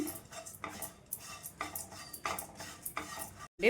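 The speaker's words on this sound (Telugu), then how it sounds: "అటుకులని ఫ్లేమ్ మీడియంలో ఉంచేసుకొని మంచిగా వేయించుకోండి." Flattened rice (poha) stirred and dry-roasted in a pan over medium flame, with repeated scraping, rustling strokes of a utensil against the pan in an uneven rhythm, close and moderately loud, no talking.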